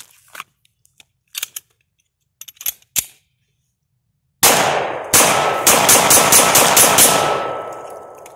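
A Polymer80 pistol firing Hornady Critical Duty self-defense ammunition at a shooting range: after a few quiet handling clicks, a loud, rapid string of about seven close gunshots rings out with echoing decay.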